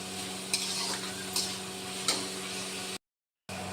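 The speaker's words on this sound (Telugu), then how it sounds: "ఇప్పుడు కొంచెం కడాయిలో ఫ్రై చేసుకొని దాంట్లో వేసేసుకుంటాను." Carrot and beans frying in a kadai, a steady soft sizzle with a few sharp scrapes of a stirring spoon against the pan, close and quiet, cut by a brief dropout near the end.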